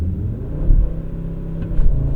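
A 2024 Audi RS3 starting a launch-control run, heard as a loud, close, low engine rumble that swells briefly, heavily muffled from inside the cabin.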